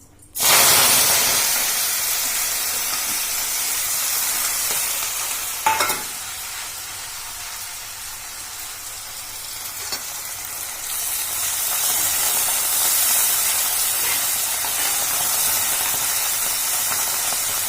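Fenugreek is added to hot cold-pressed mustard oil and fries with a loud, continuous sizzle and hiss that lasts the whole stretch. A brief clatter comes partway through, and the frying swells again toward the end.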